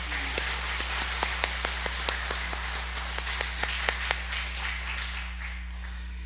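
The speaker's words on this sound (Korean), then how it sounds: "하나님께 영광의 박수 올려드리겠습니다" A church congregation claps at a Pentecost Sunday service after a praise song: a steady run of sharp, evenly spaced hand claps over a low constant hum, moderately close with no talk.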